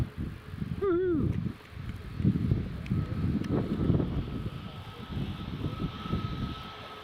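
A TUI airliner rolls for takeoff in stormy crosswind conditions at Newcastle International Airport, a rumbling engine roar mixed with gusty wind noise, preceded by a brief warbling animal-like call.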